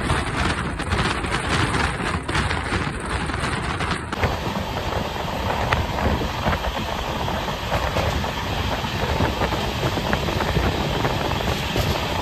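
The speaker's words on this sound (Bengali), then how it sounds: "সুন্দর এই LHB কোচে ভালো চলেছে ট্রেনটা সারা রাতে" An LHB coach passenger train runs on the rails overnight toward New Jalpaiguri, giving a steady, loud rolling rumble with continuous wheel clatter and hiss throughout, and no voices.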